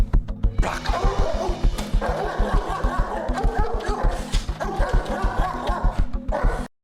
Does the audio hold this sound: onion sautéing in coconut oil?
no